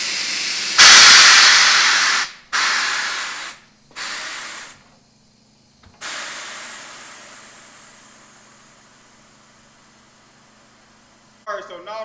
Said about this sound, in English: so now the tire is actually inflating